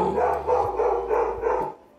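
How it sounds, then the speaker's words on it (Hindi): A pet dog barks inside a home, several sharp barks in a steady rhythm at moderate distance, heard alone. "थोड़ा डॉगी भौंक रहा है, हमारे घर में है।"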